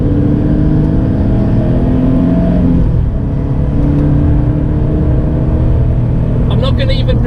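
A race car engine drones loud and close through a track day lap, holding a steady roar, dipping briefly as it downshifts to second for the first bend, then pulling again, with a voice talking over it.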